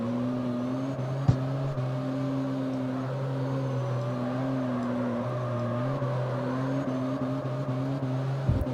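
Steady engine drone of a front-wheel drive drift car in the racing game CarX Street, a continuous mid-level tone with shifting pitch and a couple of brief clicks, heard alone without talk.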